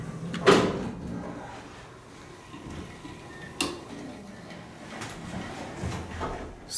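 An Otis Series 1 hydraulic elevator door operator runs with a few soft clunks and a faint ticking mechanism, one louder thump near the start and another midway, heard alone against quiet shaft hum.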